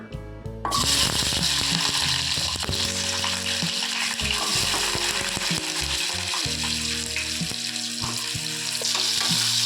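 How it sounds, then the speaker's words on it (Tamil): Onions sizzling loudly in hot sesame oil, a dense continuous frying hiss that starts abruptly as they hit the pan, with stirring scrapes and clanks of a utensil throughout. "எண்ணெய் சூடாயிடுச்சுக்கிட்டே வெங்காயத்தை போட்டு வணக்கிக்கலாம்"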